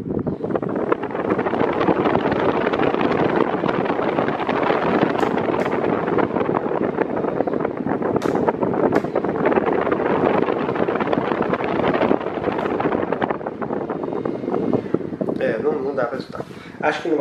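An IT-BLUE 120000mAh portable power station running an Arno VB4 fan produces a loud, constant whooshing roar of moving air that fills the whole stretch, with a few faint clicks and scrapes near the end.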